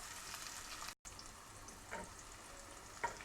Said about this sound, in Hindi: सिर्फ हम इसको थोड़ा सा फ्राई करेंगे